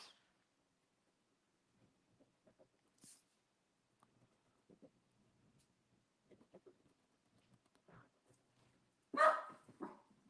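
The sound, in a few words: dogs barking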